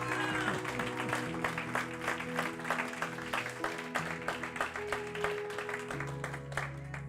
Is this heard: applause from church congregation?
yes